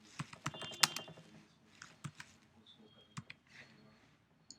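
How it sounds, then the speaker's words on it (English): Typing on a computer keyboard at close range: irregular bursts of quick plastic key clicks with short pauses between them, fairly soft and heard alone. "In the search bar, just type"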